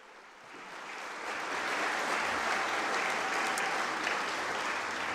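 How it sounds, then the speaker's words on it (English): Graduating students at a Melbourne Polytechnic graduation ceremony receive a dense, sustained round of audience applause that swells within the first second and holds steady, filling the hall. "Let's give our higher education graduates another big round of applause."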